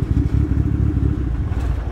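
A car with a full turbo-back exhaust system, including a Terme dump pipe, cat converter, hot dog and rear muffler ending in a stainless tip, runs with a loud, close, steady low burble and a throbbing pulse.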